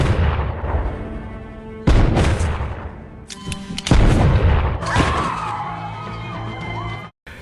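Rapid gunfire in a film shootout, loud bursts and sharp cracks with booming impacts and echoing reports, coming in clustered volleys with brief pauses between them.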